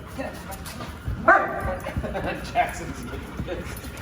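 Several dogs bark and yip on a rural property where a tiny home is being built, giving a couple of short, sharp barks amid outdoor noise, with a person talking nearby.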